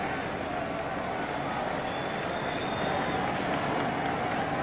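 Large ballpark crowd at SkyDome during Game 5 of the 1993 World Series, Blue Jays against Phillies, a steady roar of cheering and scattered clapping from a distance, sustained without break.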